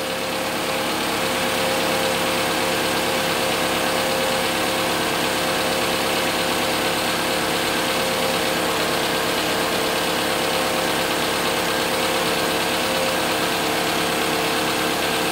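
A 2018 Toyota RAV4 engine idles steadily and loudly while warming up, a constant mid-pitched hum with slight vibration, unchanging for the whole stretch.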